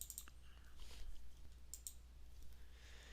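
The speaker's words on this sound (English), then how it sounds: "double-click on it." A computer mouse gives a quick double-click, two faint sharp clicks close together, against a low steady electrical hum with a few more soft clicks around them.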